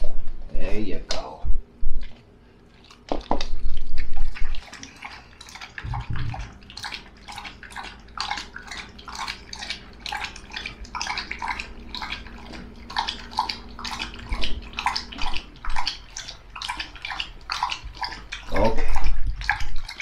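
Water splashes into a dog's bowl in a home, a loud gushing pour that then gives way to a long run of rhythmic lapping and slurping as the dog drinks, with a short spoken word near the end.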